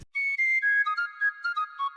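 A short, clear whistled melody of a few rising and falling notes, played alone in silence.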